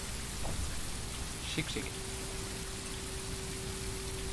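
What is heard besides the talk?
rain on the bus windscreen in Tourist Bus Simulator video game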